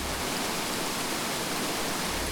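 A waterfall along the Camino near Zubiri, a dense, steady rush of falling water filling the whole sound, close and constant without pause or voices.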